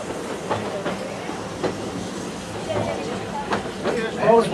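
Magic Kingdom Railroad train cars roll along the tracks with a steady clickety-clack rhythm and soft hiss, heard close by under a spoken announcement.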